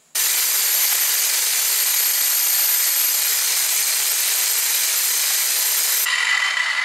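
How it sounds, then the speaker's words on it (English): A vise-mounted angle grinder shears excess metal off a steel cleaver blank, starting abruptly and then giving a loud, continuous, harsh hiss that shifts in tone near the end. "The quickest way for me to remove this excess metal here is with the angle grinder"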